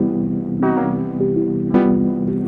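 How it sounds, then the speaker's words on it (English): An Elektron Digitone synth plays sustained chords through a Demedash T-120 v2 tape-style pedal with a fuzzy, warm noise layer, two loud chord swells with soft hiss beneath. "you can kind of hear that really nice, fuzzy, warm noise layer"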